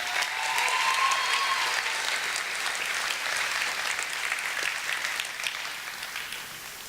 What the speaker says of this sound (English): You guys give a round of applause for Evan.